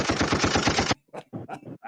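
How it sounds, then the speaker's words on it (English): Loud burst of rapid gunfire, a dense rattling volley of shots lasting about a second as a sound effect, followed by someone talking alone. "Gunshot."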